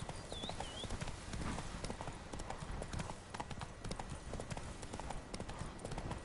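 A horse's hooves clip-clop at a steady galloping rhythm in The Witcher 3 video game, close and continuous for several seconds, with a faint whinny near the start.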